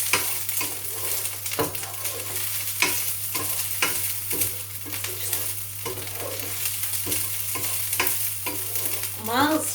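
Minced meat with cumin seeds and garlic sizzles steadily in a pan, a continuous crackling fry broken by repeated scraping stirs of a utensil, close and clear with no talk.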